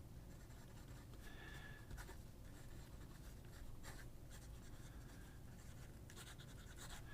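A fountain pen with a number 6 steel medium nib scratches softly across paper in a continuous series of close, quiet writing strokes.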